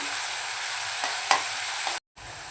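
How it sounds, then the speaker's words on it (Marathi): Onions sautéing in a pan for chicken keema give a steady, close sizzle, broken by a few soft stirring scrapes and a brief cut to silence near the end. "कांदा नरम होईपर्यंत आपल्याला परतवून घ्यायचं आहे।"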